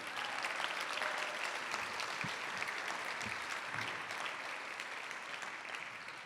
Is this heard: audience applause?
yes